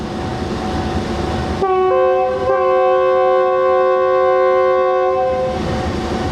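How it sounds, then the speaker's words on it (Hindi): The locomotive of the 38DN Fareed Express sounds a loud, sustained horn blast of about three and a half seconds as it departs, set against the steady rumble and hiss of the train and the station. "चलते हैं लोकोमोटिव के पास, इसका डिपार्चर कैप्चर करते हैं।"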